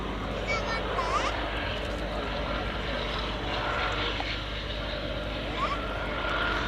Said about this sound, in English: A surprisingly fast aeroplane, just over 300 miles an hour,